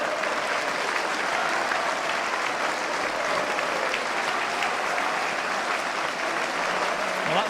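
A stadium crowd at a football match applauds a goal in a dense, steady roar of clapping that holds at full strength throughout, with no voices standing out above it.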